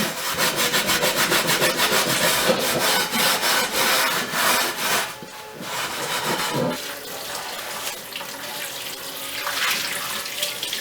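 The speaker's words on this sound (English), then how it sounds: "right now I'm trying to mainly get all the rust, or as much rust as I can, off" A rusty cast iron skillet is scrubbed in rapid, rhythmic back-and-forth strokes, loud and close, with the gritty rubbing easing after a few seconds into softer, wetter scrubbing near running water.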